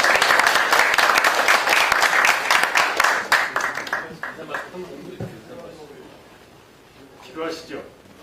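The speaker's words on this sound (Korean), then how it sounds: "박수 한번 주시기 바랍니다" An audience at a forum's founding meeting applauds to welcome the chairman, dense clapping that swells for several seconds and then fades out, with a voice speaking as the applause dies down.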